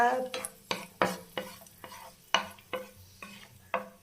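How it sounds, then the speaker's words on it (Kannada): Raisins roast in ghee over a low flame for jackfruit halwa, a soft sizzle broken by a regular series of sharp scraping stirs against the pan, close by and with no talking. "ಸ್ವಲ್ಪ ದ್ರಾಕ್ಷಿನೂ ಲೋ ಫ್ಲೇಮಲ್ಲಿ ಇಟ್ಕೊಂಡು ಹುರ್ಕೊಳ್ಳೋಣ ನೋಡಿ ಚೆನ್ನಾಗಿ ರೋಸ್ಟ್ ಆಗಿದೆ"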